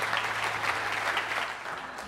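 An audience at a talk gives a brief, fairly quiet burst of steady applause.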